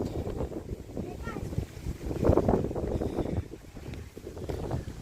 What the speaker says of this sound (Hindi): और सामने तो इतनी तेज़ हवा चल रही है कि क्या कहें।